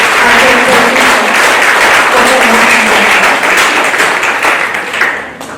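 A loud, sustained round of applause from the audience at a physiotherapy rounds gathering, steady dense clapping throughout that thins and fades in the final moment.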